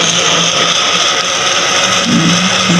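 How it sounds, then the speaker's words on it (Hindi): A kitchen mixer grinder whirs steadily as it purees tomatoes and green chillies, a loud close motor drone holding an even pitch for the whole stretch. "ये टमाटर और मिर्ची भी ग्राइंड कर रहे हैं, पीस कर डालते हैं।"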